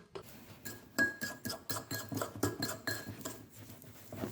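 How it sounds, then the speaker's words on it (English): A spoon stirs through a mixture in a bowl with repeated clinking and scraping strokes, a fairly close, steady rhythm of small knocks against the dish. "Stir it up."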